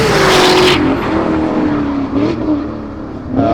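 A loud, rock-and-roll car, its exhaust once measured at 134 decibels before a resonator was fitted, roars close by with a strong revving engine note that eases off and then picks up again while driving.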